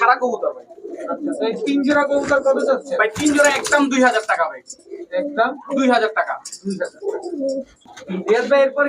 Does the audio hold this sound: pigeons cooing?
yes